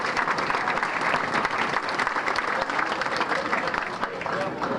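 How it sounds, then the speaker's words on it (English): Sustained applause from a banquet audience at a sports hall of fame enshrinement dinner, dense and steady throughout with a faint murmur of voices underneath. "a great big round of applause for everybody here at DeLuca's for the wonderful meal we enjoyed here tonight"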